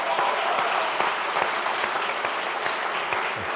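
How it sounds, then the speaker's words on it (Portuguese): A church audience at a family seminar applauds a woman and her son, with steady, full clapping from a crowd filling the room for several seconds and no speech over it. "Vamos aplaudir a Andréia e o filho dela"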